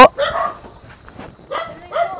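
A dog barks close by at a rural home visit, a few loud bursts at the start and again later, with people talking around it.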